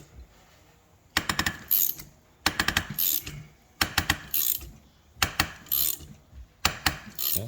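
Gear reduction parts for a RZR RS1 UTV click and ratchet in repeated bursts of metallic clatter, each about a second long with quiet gaps between, close and fairly faint.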